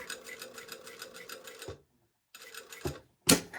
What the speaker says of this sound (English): we're going to sew to this point here